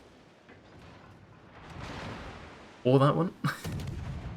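A warship detonates in World of Warships with a sudden booming blast and a shorter follow-up burst, after a stretch of quieter rumble, while someone speaks briefly.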